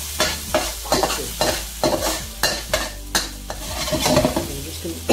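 Chicken and Thai holy basil fry in a hot pan, a steady sizzle broken by repeated scraping stirs of a utensil against the pan in a loose, regular rhythm, close and loud.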